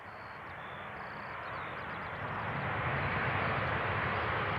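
An airplane lands on runway 18R at Amsterdam Schiphol Airport, a broad, rumbling jet roar that swells steadily louder throughout.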